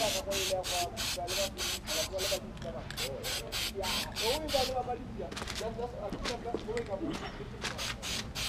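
Repeated short bursts of aerosol spray hissing from a can of Plasti Dip onto a car wheel, rhythmic pulses close to the mic, over a steady background with faint voice.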